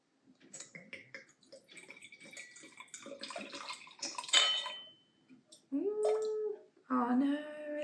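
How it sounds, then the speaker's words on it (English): Red wine gurgles as it is poured into a glass in a kitchen, with a few light clinks. Quiet voices are heard between and over the pours. "let's pour this wine real quick because it's a red wine. Pour it up."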